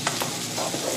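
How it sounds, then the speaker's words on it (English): Scrambled eggs are stirred in a non-stick pan, giving a continuous soft sizzle with faint scraping strokes, close and steady, without speech. "Okay, keep stirring."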